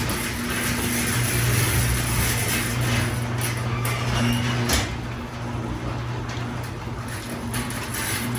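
A motorized garage door opener rumbles steadily as the door moves, a continuous mechanical drone with faint rattles, then the motor tone shifts.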